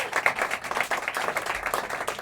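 An audience at a folk club claps, with scattered, distinct handclaps forming light, uneven applause over a couple of seconds.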